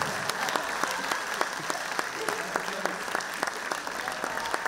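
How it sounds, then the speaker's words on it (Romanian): A crowd applauds a violinist at a folk music show, with sharp individual claps standing out above a steady wash of clapping, ongoing throughout. "Aplauze pentru violonistul nostru"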